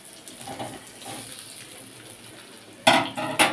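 Besan dhoka pieces frying in oil make a low, steady sizzle and bubbling, close by. Near the end come two sharper bursts, like stirring or lifting them out of the pan, and no one talks.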